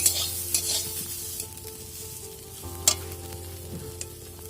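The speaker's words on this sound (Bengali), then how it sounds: "সেটা আমি একটু কড়াই তেল দিয়ে নেড়ে চেড়ে ভেজে নিচ্ছি" Soaked vegetables stir-fried in oil in a wok, a soft continuous sizzle broken by a few sharp scrapes and knocks of a spatula against the pan.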